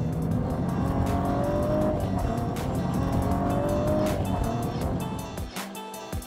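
A 2016 Cadillac ATS-V slides on a race track, its engine roaring hard as the tires squeal through the drift, loud and continuous before easing off near the end.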